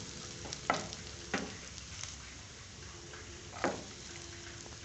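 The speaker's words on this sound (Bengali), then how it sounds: "সবগুলো একটু ভেজে নেব।" Whole cumin seeds fry in hot oil in a pan while making a mashed brinjal dish, giving a soft steady sizzle with a few scraping stirs of a spoon, close by and without voices.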